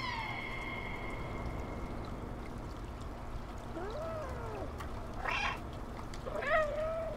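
Cats in the Stray video game meow a couple of times, clear mid-distance calls over a steady watery, flowing background, with a sustained tonal hum early on.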